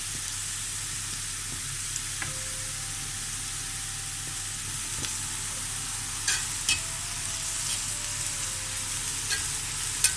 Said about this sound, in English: So I want to allow that to saute for a bit.